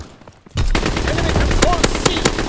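Sustained gunfire in the World War II shooter game Call of Duty: WWII erupts after a brief quiet moment, a loud, dense rattle of rapid shots layered with battle noise and voices.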